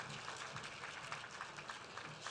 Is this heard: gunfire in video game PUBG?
no